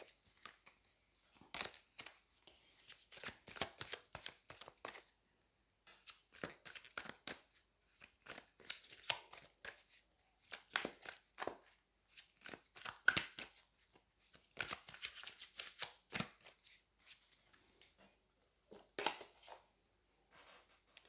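Tarot cards are shuffled and handled in soft, crisp bursts of riffling and rustling, separated by short quiet pauses, close and fairly faint.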